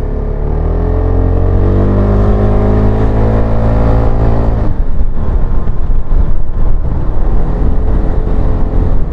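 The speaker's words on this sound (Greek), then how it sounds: "Στο ρελαντί το νιώθεις στη σπονδυλική σου στήλη ότι είναι ενεργό" A QJMOTOR FORT350 Euro5 motorcycle engine idles with a steady, loud low rumble that stays close and continuous, its even tone breaking into a rougher, more irregular throb partway through.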